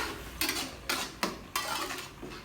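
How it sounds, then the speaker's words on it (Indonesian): A spoon or spatula stirs spices in a cooking pan for a spicy-sour Indonesian urap vegetable dish, giving four or five short scraping strokes at an even pace, close and clear, with no talk. "Kita aduk kembali sampai benar-benar aromanya kecium."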